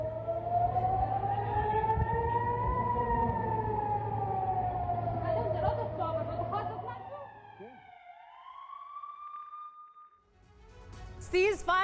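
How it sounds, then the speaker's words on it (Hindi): Air raid sirens wail over Tel Aviv during a rocket attack, a loud rising and falling tone held for several seconds. The siren then fades into near quiet before a brief burst of noise. "राजधानी तल अवीव में गूंजे सायरन।"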